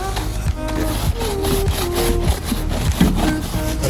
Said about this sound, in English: First time brushing a car.